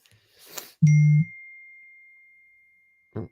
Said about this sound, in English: Phone seems to be going mad.